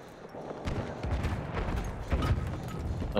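Gunfire crackles through a Battlefield 1 match, several close shots and bursts layered over a steady rumbling battle din, with no talking.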